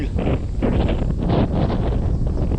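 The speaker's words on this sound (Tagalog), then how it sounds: "lakas po ng hangin" Strong wind buffets the microphone in loud, rushing gusts that swell and ease without pause.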